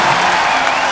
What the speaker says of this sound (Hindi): एक बार रितेश देशमुख के लिए जोरदार तालियां।